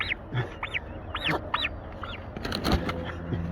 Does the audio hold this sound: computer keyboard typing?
no